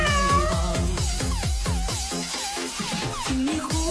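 A cat meows over and over, close and loud, in a steady series of drawn-out, slightly complaining calls while carried inside a cat-carrying hoodie, with no talking.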